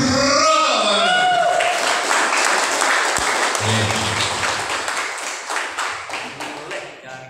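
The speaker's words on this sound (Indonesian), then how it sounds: "Kita sambut dan beri tepuk tangan yang luar biasa" An audience in a hall breaks into loud, sustained applause for a speaker taking the stage at a company presentation, dense clapping that slowly thins out into scattered claps, with an announcer's voice over the start.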